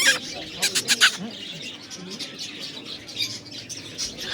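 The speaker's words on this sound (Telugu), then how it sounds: "పక్షులు చూడండి ఎన్ని ఉన్నాయో." A crowd of birds chirps and tweets nearby in short, busy bursts, with soft cooing and wing flutters under family voices talking.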